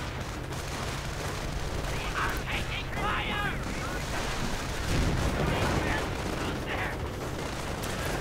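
Distant gunfire and grenade blasts from the Men of War strategy game roll on steadily as a continuous battle din, with scattered bursts and a heavier thump near the middle.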